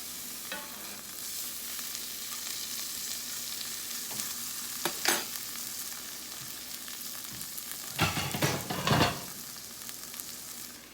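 Butter sizzles in a frying pan for breakfast hash browns, a soft steady hiss with a few louder bursts of crackling and clatter from the pan, heard close without talk.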